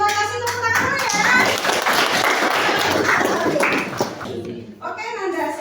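A group bursts into several seconds of brisk clapping, with voices speaking just before and after.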